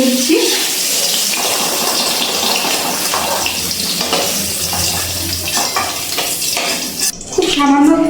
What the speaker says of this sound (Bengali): এক মিনিট মতো তেলে নাড়াচাড়া করে ডাঁটাগুলো ভেজে নিয়েছি। এবার তুলে নিচ্ছি।